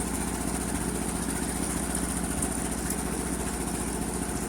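A 1958 Ford 851 tractor engine runs at a steady idle, a continuous low rumble with a constant drone that holds even and close throughout, with no talk over it.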